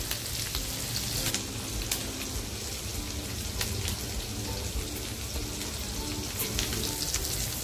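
Green chilies fry in a hot pan for a Navratri fasting sabudana khichdi, giving a steady, close sizzle and crackle that runs evenly throughout with no talking.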